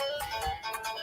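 A mobile phone ringtone plays quietly, a short repeating melodic pattern of bright tones with no talking over it.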